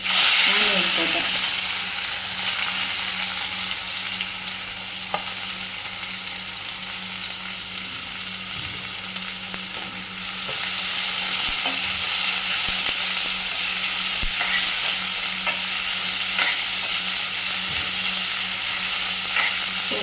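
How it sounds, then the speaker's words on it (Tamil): Cumin seeds sizzle in hot oil for a hotel-style scrambled egg masala, making a dense, even frying hiss that holds steady for the whole stretch. A faint hum sits underneath, along with occasional light clicks. "ஒரு ரெண்டு சீரகம் போடுறோம்"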